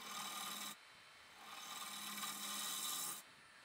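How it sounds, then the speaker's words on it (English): A wood lathe cuts a 112mm recess into the base of a laminated platter, giving a steady scraping rasp that swells in two long bursts with a brief lull between, loud and close. "I'm once again creating that 112mm recess in the base so I can flip it around to turn the inside."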